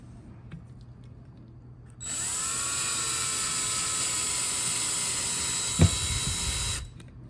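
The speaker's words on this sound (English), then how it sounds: "we're going to take a screw and we're going to put it through that pilot hole." A power drill drives a screw into a pilot hole in a Moen shower head's red flow restrictor, a steady whirring about five seconds long that starts and stops abruptly, with a brief knock near the end.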